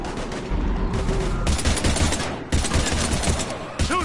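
Heavy gunfire in Mass Effect 3 on PS4 during a fight against husks, dense bursts of rapid automatic shots in several loud close volleys with short gaps, with game noise around them.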